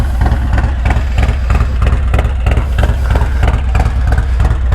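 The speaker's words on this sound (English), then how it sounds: "Look how the motor is just moving." Harley-Davidson performance bagger with a Stage II cam idling up close, a loud, lumpy, pulsing lope with an uneven rhythmic thump and no voices.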